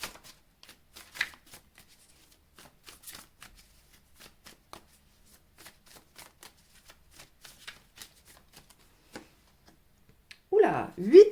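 Tarot cards shuffled by hand for a reading, a run of soft, quiet riffling flicks and taps, ending with a louder burst of handling noise.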